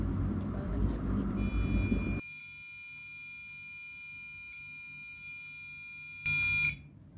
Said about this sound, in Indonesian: buzzer kembali aktif lagi